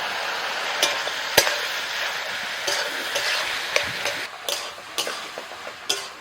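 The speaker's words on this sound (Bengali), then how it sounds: "লাউ ভালো করে কষিয়ে নিয়েছি মশলার সাথে" Bottle gourd cooks in a pan with bay leaf, cumin, turmeric, salt, ginger-cumin paste and Kashmiri chili, giving a steady close sizzle punctuated by sharp clanks of a spoon scraping and stirring.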